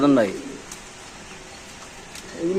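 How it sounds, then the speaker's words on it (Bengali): Giribaz pigeons at a pigeon market give close, throaty coos at the start and again at the end, with people talking nearby in between. "এখানে তিন পিস কবুতর আছে"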